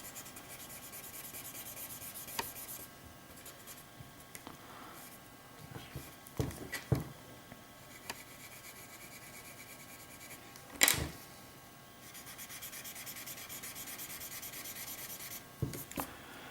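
A pencil and a blending stump rub steadily on paper while a car is drawn in cavalier perspective, giving a soft continuous scratchy hiss with a few brief, sharper taps and strokes in between.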